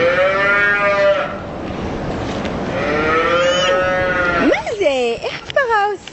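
Cows moo in a dairy cowshed, drawn-out, loud and close, several calls in a row with a sharper burst of moos near the end, while voices talk in the background.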